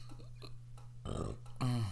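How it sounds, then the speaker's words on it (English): A loud, drawn-out burp follows a stretch of quiet chewing and smacking at a mukbang meal of Japanese barbecue pork loin, mashed potatoes and salad, up close with no talk. "I burp for you."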